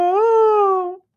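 A single drawn-out, wailing call from a human voice imitating a peacock. It rises slightly, holds steady for about a second, then stops.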